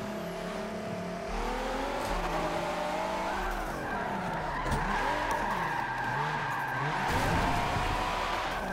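A race car in a racing sim screeches through a long tire skid with warbling squeal over a loud, steady engine drone that keeps running throughout; no talking.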